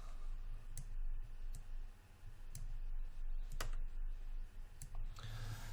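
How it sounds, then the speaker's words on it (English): Computer keyboard keys pressed during 3D modeling work in Maya, a handful of sharp, separate clicks spaced irregularly over a low steady hum. "Hit Q on your keyboard."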